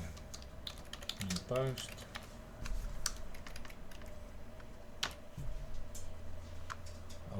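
Rapid typing on a computer keyboard, with bursts of close, crisp key clicks in an uneven rhythm, while a person speaks briefly early on.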